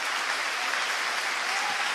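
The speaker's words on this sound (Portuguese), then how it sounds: "Você consegue aplaudir o Senhor pela sua palavra agora?" A church congregation claps together in a short, dense burst of applause, close and even throughout, with no voices on top.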